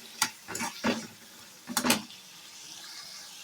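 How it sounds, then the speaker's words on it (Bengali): Spices with chili powder and sugar sautéed in oil, a few close stirring scrapes and clatters, then a soft steady sizzle. "তো এগুলো দিয়ে আমি আবার ভালো করে মিনিট 2 কষে নেব।"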